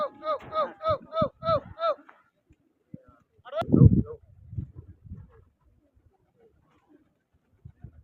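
Pigeons coo in a rhythmic run of about seven calls at first, then a burst of fluttering noise and scattered faint sounds follow as the birds take off, with a voice speaking in between.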